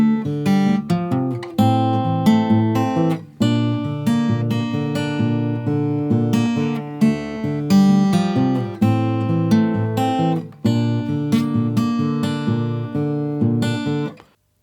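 Acoustic guitar in drop D tuning plays the verse of a song, with ringing fingerpicked notes and bass strums in a steady repeating pattern, close and clear, ending on a brief pause.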